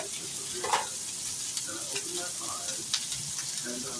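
Bacon and onions sizzle steadily in a pan while being stirred, close and continuous crackling with occasional scraping clicks, a faint voice murmuring underneath.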